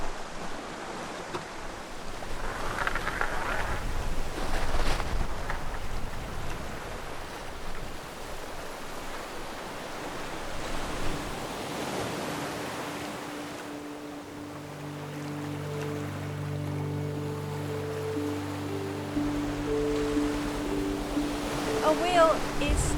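Ocean waves wash around a small boat during an Atlantic crossing, a continuous rushing of water and wind that swells and fades, with steady droning tones joining in the second half.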